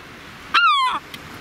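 A single loud, drawn-out call from a seagull nesting on the Wadden Sea coast at Helgoland rings out close by against quiet, faint background noise.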